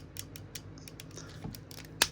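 Plastic Transformers toy car doors, a Back to the Future Gigawatt crossover figure, are lifted up with faint small clicks and creaks, ending in one sharper snap near the end.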